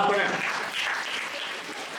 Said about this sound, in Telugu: ఓకే, చప్పట్లు ఎందుకు కొట్టారో నాకు తెలియదు